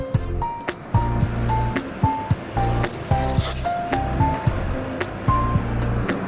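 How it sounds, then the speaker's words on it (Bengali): Rice being washed in water by hand, close wet swishing and sloshing with intermittent clinks against the bowl and a few brief rustles. "এবার চালটা ভালো মতন করে ধুয়ে নিন।"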